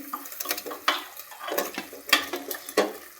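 Spoon stirring dhokli pieces through simmering curry in a pot, with soft scraping, clinks against the metal and wet sloshes in irregular strokes, close up with no voices.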